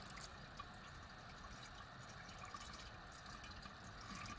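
Water trickles steadily as it is poured into a frog enclosure, a continuous faint splashing flow with no voices.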